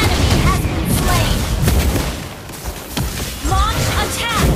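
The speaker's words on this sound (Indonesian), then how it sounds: "Kalian tidak bisa lolos dari ledakan." Game explosions in Mobile Legends crack and boom repeatedly over dense, busy battle noise, with synthetic chirps and a game announcer voice running alongside the blasts throughout.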